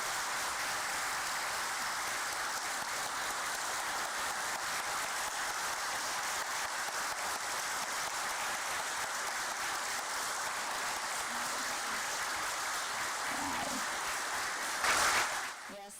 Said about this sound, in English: let's have a thunderous round of applause